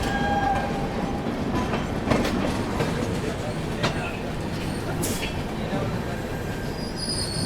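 The Godan Express from Gonda rumbles past on the line, a steady loud roar of wheels with clattering rail joints and brief metallic squeals throughout.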